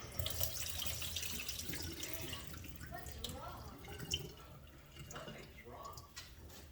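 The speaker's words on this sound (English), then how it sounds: "I'm going to drain the water off of my diced potatoes." Water running and splashing in a kitchen sink as diced potatoes are drained for potato soup, a steady faint rushing pour with small gurgles and drips, no talk over it.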